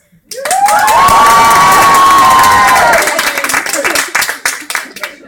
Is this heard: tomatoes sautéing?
no